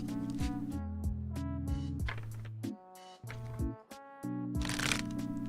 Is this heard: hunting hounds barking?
no